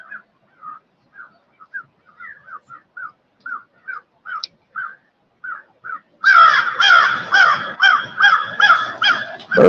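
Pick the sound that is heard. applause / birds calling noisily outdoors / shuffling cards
birds calling noisily outdoors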